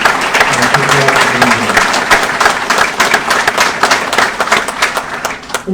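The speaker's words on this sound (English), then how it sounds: "So please a round of applause for those special guests tonight." Audience applause for special guests at a Navy Supply Corps Basic Qualification Course graduation ceremony, sustained crowd clapping with individual claps standing out and a few voices mixed in.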